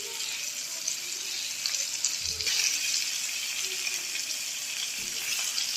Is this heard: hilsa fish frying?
yes